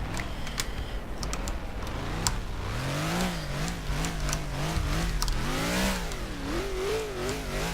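Simulated car engine in Garry's Mod ACF revving continuously, a loud, rising and falling whine that climbs through gears on a highway in a big city map, with scattered clicks over it and no talk.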